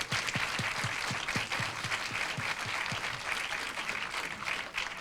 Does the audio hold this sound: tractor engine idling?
no